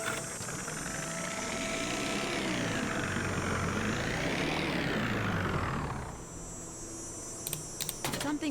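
A faulty engine in the video game Nancy Drew: Ghost Dogs of Moon Lake drones loudly and steadily, its pitch rising and falling, then cuts out, leaving a few faint clicks.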